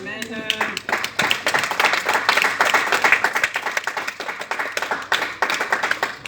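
Congregation clapping and applauding in a church service, a dense, steady burst of many hands under scattered voices, loud and close, lasting several seconds.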